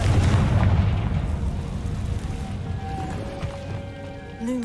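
A Confringo spell blasts in Hogwarts Legacy: a heavy low boom opens the clip and decays into a rumbling tail, with faint tonal chimes drifting over it afterward.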